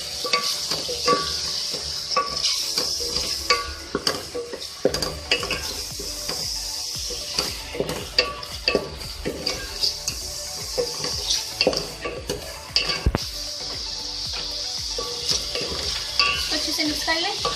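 Chicken with ginger garlic paste is stirred in a frying pan, a continuous close sizzle broken by repeated scraping and clinking strokes of a utensil against the metal.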